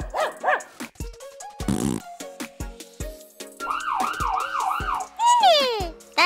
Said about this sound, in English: The ambulance goes wee-oo